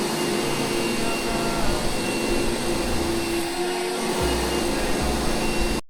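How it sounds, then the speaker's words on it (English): A vacuum cleaner running continuously nearby, a loud steady whooshing drone with a faint whine that shifts slightly in tone before cutting off at the end. "He's keeping those hands busy with a vacuum."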